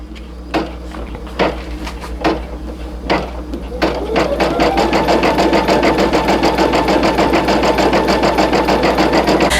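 A single-needle embroidery machine sews a satin stitch around a denim applique heart patch; a few sharp knocks give way to a loud, fast, steady mechanical chatter that runs continuously to the end.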